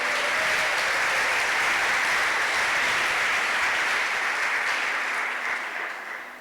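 Steady, loud clapping from a church congregation fills the space continuously, with a faint low hum underneath, tapering off in the final second.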